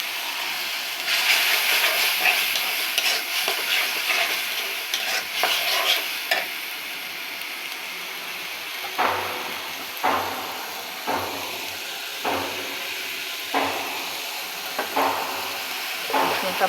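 Spice paste with salt frying in a pan for a Bengali dish, with a steady close sizzle and a series of rhythmic spoon scrapes as it is stirred, growing more regular toward the end.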